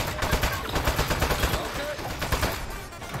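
Rapid bursts of gunfire from automatic weapons in the Aperture Desk Job video game, loud and close, a dense stuttering volley running the whole time with a brief tonal blip midway.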